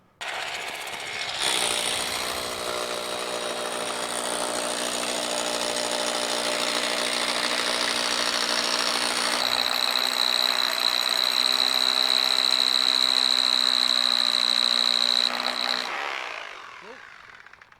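A generator engine runs steadily close by, a loud constant droning hum with strong tonal whine that kicks in abruptly, shifts pitch slightly midway, then cuts off near the end.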